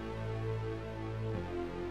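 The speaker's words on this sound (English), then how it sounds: "And then another bass line." A second synth bass line in a home remake of a pop ballad, a steady low sustained tone that shifts pitch partway through, played alone without voices.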